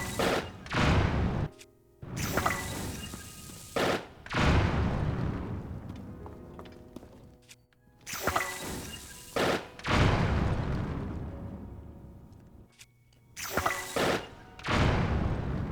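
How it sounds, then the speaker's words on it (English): Bombs detonating against thick rock in Zelda: Tears of the Kingdom, a series of loud booming blasts in separate clusters, each followed by a rumbling decay and a short quiet gap. "We're gonna bomb it."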